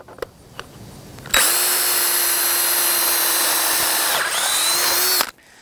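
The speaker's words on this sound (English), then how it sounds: "Make sure your fingers are clear of the drill." A power drill bores a bolt hole through a brace for a steel knock-down target, whining loudly and steadily for about four seconds before stopping abruptly, with a few faint clicks beforehand.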